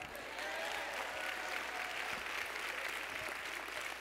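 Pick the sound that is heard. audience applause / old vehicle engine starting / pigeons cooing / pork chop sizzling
audience applause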